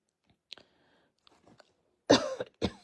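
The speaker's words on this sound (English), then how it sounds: "Excuse me, coughing." A few quiet throaty sounds, then two sharp, close coughs in quick succession.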